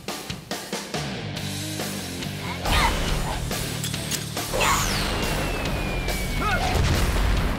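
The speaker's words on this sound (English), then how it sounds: "Look at them stunts! Those explosions!" Cartoon stunt explosions from an animated superhero comedy: a dense, loud mix of booms, crashes and whooshing sweeps layered over a steady music bed, with bursts recurring across the scene.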